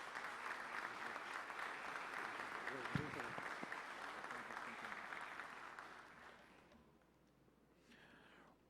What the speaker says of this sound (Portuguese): Uma salva de palmas, doutor José Horácio.